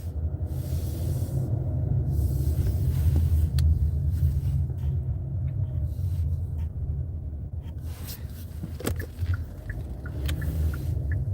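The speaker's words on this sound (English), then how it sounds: "Oh, these car rides are never easy." Inside a moving car, a steady low road rumble with hiss continues throughout, with occasional faint clicks and a brief creak near the end, no talk.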